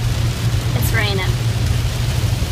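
Steady rain falls throughout, a continuous close hiss over a low constant rumble, with a brief faint voice-like sound partway through.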